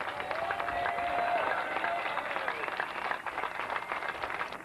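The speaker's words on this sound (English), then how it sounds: "Let's applaud. Let's give them a big hand." A crowd at an outdoor political rally in Miami applauds, dense clapping and cheering sustained throughout, with a brief whistle-like tone early on.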